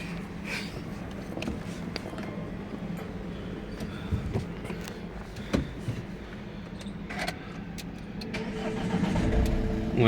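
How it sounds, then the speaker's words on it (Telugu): A car engine is started by push button, a low steady rumble swelling near the end as it catches and settles into an idle, heard close with little else around. "push button start"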